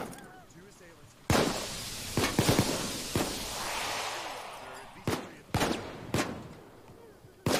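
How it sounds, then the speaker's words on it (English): Machine gun fire in Payday 2 during a gold bullion heist, sharp loud shots in short clusters and single cracks over a hissing background, with a voice heard between them. "This is a machine gun here."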